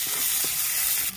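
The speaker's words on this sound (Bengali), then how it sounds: "মাছের তেলে সামান্য একটু কালো জিরে দিয়ে দিচ্ছি, কুচিয়ে রাখা একটা পেঁয়াজ দিয়ে দিচ্ছি। পেঁয়াজটা হালকা লাল করে ভেজে নেব।" Chopped onion frying with black cumin in fish oil in a pan, a steady bright sizzle filling the moment, with a soft stir and a louder scrape near the end.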